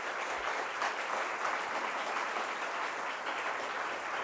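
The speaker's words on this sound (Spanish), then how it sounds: "Les pido un fuerte aplauso para nuestro panel de lujo" Steady, continuous audience applause for a panel at a business-family commemoration event, a dense wash of clapping at moderate distance with no talk over it.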